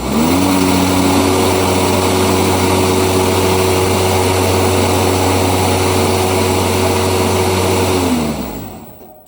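A Greenworks Optimus 48-inch stand-on electric mower runs steadily with a smooth, even hum and faint whine. The level stays constant for most of the clip, then winds down near the end.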